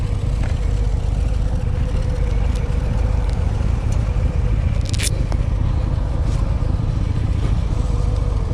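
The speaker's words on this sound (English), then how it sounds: "The Harley Davidson Fatboy 2023 is a fantastic bike." A 2023 Harley-Davidson Fat Boy 114 motorcycle engine rumbles steadily and loudly throughout, a continuous low throbbing drone with a few faint clicks and scrapes on top and no talking.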